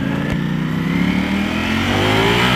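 A Ducati V4 Speciale motorcycle revs up loud and close on its first ride, its engine note rising steadily with a continuous mechanical drone and wind rush.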